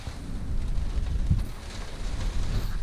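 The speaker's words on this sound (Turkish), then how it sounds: "Bu güzel şıp şıp şıp yağmur sesinin dışında böyle tık tık tık tık tık tık tık böyle bir metal sesi gelince insanı çok rahatsız ediyor." Rain drums steadily on the metal roof of a Sprinter camper van, a dense close patter with a low rumble underneath and no voices.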